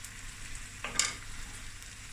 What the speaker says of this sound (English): And now just on a medium heat, not a high heat, we're going to let this just fry away.